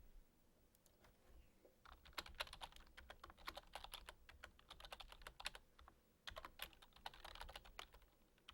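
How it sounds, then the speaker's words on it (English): Rapid typing on a computer keyboard, dense bursts of crisp clicks after a quiet start, pausing briefly before resuming, close and fairly faint. "type in 4 ones for the corporation code and cost center"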